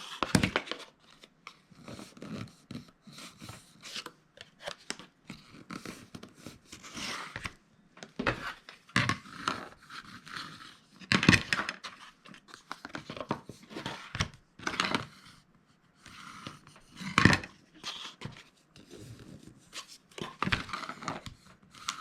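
Paper being folded, creased and cut with scissors while making a liner piece for a miniature chest of drawers, with irregular close crinkles and snips.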